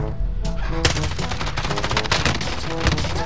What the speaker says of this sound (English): I'm hip firing him with the fucking pistols